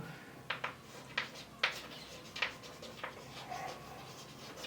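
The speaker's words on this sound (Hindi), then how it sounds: "मैं यहां इसको क्लियर लिख देता हूं" Chalk or marker strokes scratch across a board during a physics lecture, short bursts of writing repeating in an uneven rhythm at moderate level against a quiet room background.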